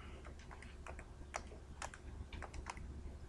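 Rapid keystrokes on a computer keyboard, a steady run of light clicks and taps close by, with no talking over them.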